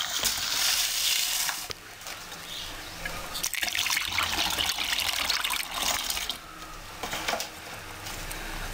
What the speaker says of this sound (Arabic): نضع الحليب على السكر لكي يمر